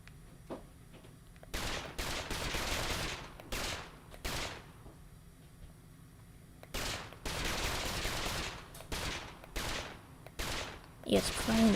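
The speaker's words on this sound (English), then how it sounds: "it's firing that bullet when it's not supposed to, which is weird." Bursts of rapid bullet gunfire from a LittleBigPlanet 3 level recreating Uncharted 3 features, several volleys of a second or more separated by quieter gaps, fairly loud and close.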